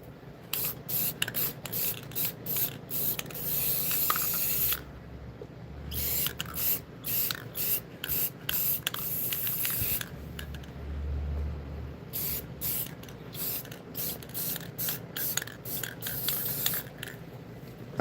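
A nearly empty spray paint can hisses in repeated short bursts, some sputtering and uneven, with rattling and scraping sounds between sprays close by.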